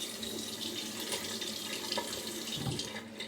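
Tap water runs steadily into a bathroom sink to rinse after a wet shave, a continuous close hiss and splash with no talking.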